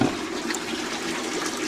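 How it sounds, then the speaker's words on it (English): Water pours steadily from an inlet pipe into an aquaponics solids-settling bucket, a plain bucket with its bottom cut out, splashing against the sides in a continuous, fairly close rushing wash. "the water is sort of hitting the sides, and the solids, e.g. bits like this, will pass down to the bottom"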